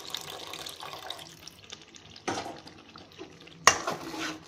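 Strained tamarind water poured into a garlic and pepper gravy in a kitchen pot, a soft continuous liquid trickle with a couple of sharper splashes and clinks near the end, close by and fairly quiet.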